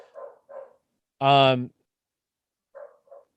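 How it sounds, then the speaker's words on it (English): A dog barks once, a loud close bark between brief bits of talk in an otherwise quiet room. "My damn dog's barking."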